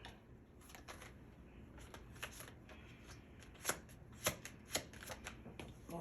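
Tarot cards shuffled by hand, a steady papery riffle with several sharper slaps and flicks standing out near the end, close and fairly quiet with no talking.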